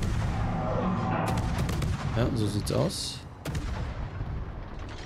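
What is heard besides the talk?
naval shells firing and exploding in World of Warships video game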